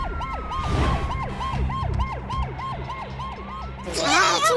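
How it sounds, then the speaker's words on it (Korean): Ambulance sirens wail in a fast repeating up-and-down pattern across a school playground, loud and close, with a second siren joining near the end. "지난 2월 10일 학교 운동장에는 사이렌 소리가 가득 울려 퍼졌습니다."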